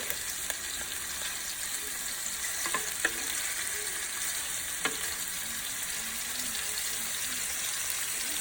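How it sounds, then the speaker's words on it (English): Thick salmon planks searing in a hot pan give off an even, steady hiss of sizzling fat with occasional small pops and crackles, close and continuous throughout with no talking. "we're going to go ahead and let it sear"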